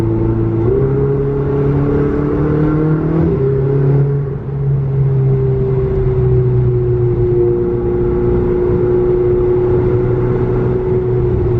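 A Ferrari with an aftermarket exhaust and automatic gearbox in race mode accelerates hard, its loud, close engine note rising steadily through gear shifts with a continuous roar and no talking.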